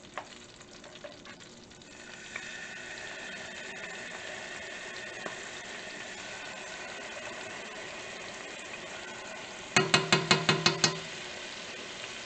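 Melted butter and garlic sizzle steadily in a pan, a constant close crackling hiss, broken near the end by a short rapid series of sharp metallic taps.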